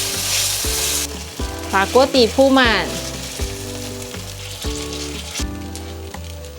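Eggless vegan batter spread across a hot cast-iron pan over low heat, giving a steady close sizzle under soft background music while someone speaks briefly.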